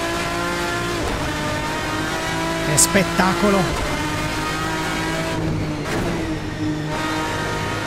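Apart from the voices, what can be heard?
modded race car engine and tyres in Assetto Corsa video game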